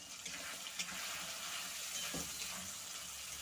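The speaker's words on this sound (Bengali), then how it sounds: "তো মশলার বাটিটা ধুয়ে আর একটু জল দিয়ে দেবো।" Water runs steadily as a spice bowl is rinsed in the kitchen and poured out for a vegetable stalk and mustard dish, a soft continuous wash with a brief splash partway through, no talking.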